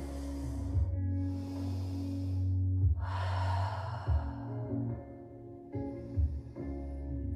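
Deep breathing in an advanced vinyasa yoga pose: several slow, close inhales and audible exhales, airy and rhythmic, over a low steady hum.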